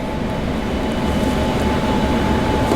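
An F-16 jet engine in the DCS flight simulator roars as a dense, steady, loud broadband rumble with a faint tonal whine running through it, no voices over it.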